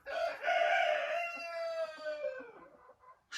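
Chickens on an open free-range run, with a silkie hen sitting in the nest; a loud, drawn-out fowl call fills most of the moment, tapering off with a brief cluck near the end, close by and without talk.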